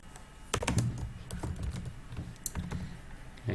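Fingers tap a computer keyboard in quick irregular bursts while text is typed into a website contact form, close and fairly quiet with brief pauses between keystroke clusters.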